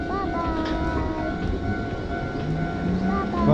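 Wakayama Electric Railway Kishigawa Line Ichigo strawberry train running nearby, a steady rumbling rail hum with tonal whine, heard under a person's talk throughout.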